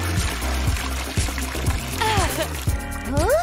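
Water pours into a glass bowl used as a fish tank, a steady trickling, splashing stream with rising bubbly tones that build near and fairly loud throughout.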